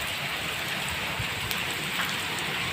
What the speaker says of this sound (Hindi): तो ये देखिए काफ़ी झमाझम बारिश हो रही थी